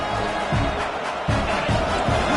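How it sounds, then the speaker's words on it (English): A football stadium crowd roars steadily through an early-game moment against Iowa, a dense, loud wash of cheering with occasional swells and no clear voices standing out. "Listen to the crowd energy here in the early going."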